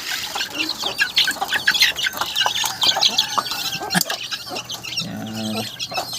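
Busy clucking and chattering from silkie chickens at feeding time, many birds close by with overlapping calls, a louder drawn-out cluck near the end, and faint speech in the mix.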